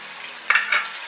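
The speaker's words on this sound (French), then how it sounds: "Je mélange bien" Shrimp and pineapple are stirred in a pan with sugar, giving two quick scraping stirs over a faint steady sizzle, close and alone without talk.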